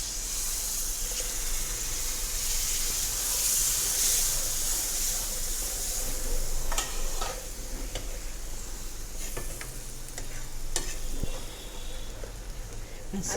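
Tomato puree sizzles in a hot pan for a no-onion, no-garlic paneer butter masala. A continuous hiss of steam is broken by scattered clicks and scrapes of stirring, with no talking.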